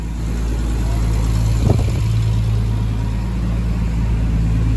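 Toyota Supra MK4 engine running on a dyno, a loud steady droning roar with a brief surge partway through, close and continuous.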